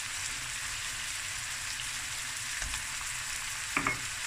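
Butter sizzling in a hot pan while cooking seafood rice, a steady soft crackling hiss that runs throughout, with a couple of faint utensil knocks near the end.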